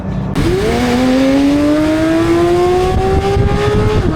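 A Porsche GT3 RS engine revs hard and climbs in a long, rising howl, loud and close, after a brief burst of noise at the start, with no talking over it.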